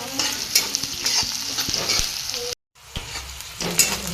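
Onions browning in a pan for tomato chutney sizzle loudly and close while being stirred constantly, with repeated scraping taps, a brief moment of silence partway through, then more frying and stirring.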